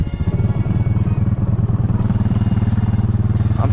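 An off-road vehicle engine drones and revs steadily at low pitch while its wheels churn in a new pond, with a rough pulsing rhythm and faint splashing clatter, close and loud.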